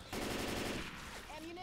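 Assault rifle gunfire in the zombie shooter Left 4 Dead 2, a rapid automatic burst lasting about two-thirds of a second, loud and close, then fading into game ambience with a few faint tonal effects.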